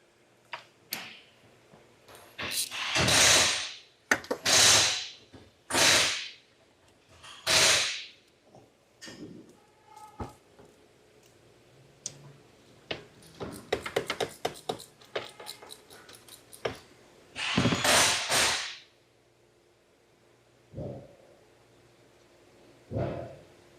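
A ratchet and tools work a 10 mm bolt loose during a water pump replacement on a 2021 Genesis G70, giving close sharp clicks, scrapes and clanks in irregular bursts separated by quiet gaps.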